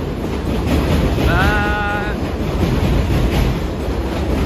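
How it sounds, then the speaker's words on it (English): Steady rumbling of a passing train in North Brooklyn, New York City, with wind noise, a brief high squeal partway through, and a voice speaking faintly once. "that pleasant sound that you just heard, that is a train system"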